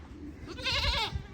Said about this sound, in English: not only is it one baby goat, it's two baby goats